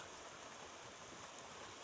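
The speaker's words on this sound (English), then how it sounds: "It's raining outside, so you're gonna have to ignore that." Rain falling outside a room, a faint, even hiss of steady rainfall with no distinct drops or pauses.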